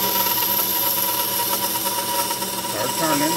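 A power lathe turns wood for a swimbait with a steady high whine and motor hum, a continuous close machine tone with voices talking over it.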